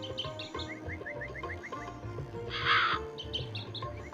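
Cawing crow from the Meena video game, a few harsh calls mixed with chirping birds and a steady game music bed, one louder burst in the middle.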